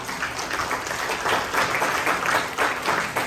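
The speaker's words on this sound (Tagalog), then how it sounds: "Wala bang palakpak si Lord dyan?" Steady applause from a church congregation during a service, a sustained wash of clapping that holds at an even level throughout.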